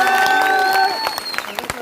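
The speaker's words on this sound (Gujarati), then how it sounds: "એકવાર જોરદાર તાળીઓ પાડો." A crowd at a political rally breaks into short bursts of clapping that rise as an amplified voice trails off, lasting only a moment.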